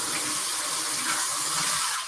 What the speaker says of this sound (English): I'm just going to rinse off my cucumber.